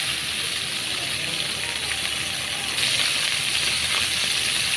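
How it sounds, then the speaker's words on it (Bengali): Water poured into spices frying in a pan for a tilapia curry with potatoes and stems, a steady sizzling hiss that swells slightly midway, close and alone. "দিয়ে দিব সামান্য পানি যাতে আমার মশলাটা পুড়ে না যায়"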